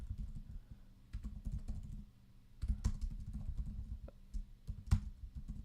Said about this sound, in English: I'm typing way too fast